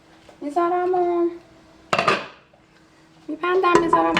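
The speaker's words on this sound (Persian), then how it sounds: "و در قابلمه رو میذارم و" Metallic clanks of a lid being set on a pot of spinach and eggs, with ringing clatters in three bursts and a sharp bang midway, close by.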